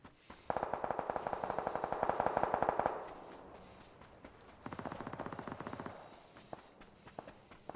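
Gunfire in the PUBG video game: two rapid bursts of automatic fire, the first lasting about two and a half seconds and a second shorter burst after a pause, moderately loud with no voices.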